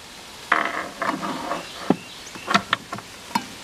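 Winding crank being taken off a Victor Victrola VV-35 phonograph and put away: a handful of soft, close metallic knocks and clicks, spaced irregularly, with quieter rubbing between them.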